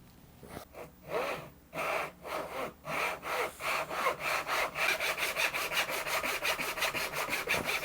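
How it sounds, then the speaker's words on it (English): Hand sawing of fret slots into a rosewood Telecaster fretboard guided by a 25.5 inch scale fret slotting template, with steady back-and-forth rasping strokes that start hesitant and settle into a fast, even rhythm, close and alone. "we've got our fretboard slotted"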